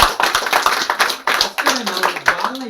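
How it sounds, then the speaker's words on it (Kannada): Brief round of clapping in a Kannada talk setting, sharp irregular claps for under three seconds mixed with voices speaking over it. "ಒಂದು ಚಪ್ಪಾಳೆ"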